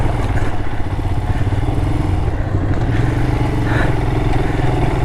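A motorcycle rumbles steadily on a rough forest trail, its engine loud and close throughout while the bike is thrown around, with clattering from the rough surface and no talk.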